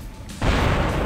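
A loud explosion bursts in from the PS2 game Disney's Stitch: Experiment 626, a sudden broadband boom that holds as a dense, rumbling roar through the rest of the second.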